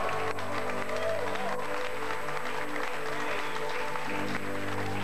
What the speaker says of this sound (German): Begrüßen Sie bitte mit einem recht herzlichen Applaus. Hier ist er live in der Schmidt-Show, Rocco